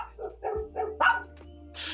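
A dog barks several times in an irregular burst of loud, close woofs and yips against a quiet indoor background, with no talking.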